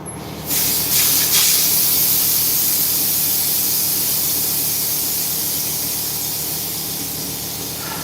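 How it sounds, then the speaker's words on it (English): An air compressor runs with an air leak, giving a loud, steady, broad hiss that starts abruptly and holds nearly unchanged, fading only slightly toward the end, with no voices. "Let me let this air compressor do its thing over here. I got a damn leak over here."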